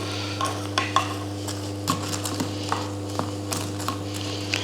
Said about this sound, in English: we're just going to give them a little turn, make sure they get evenly cooked, evenly crispy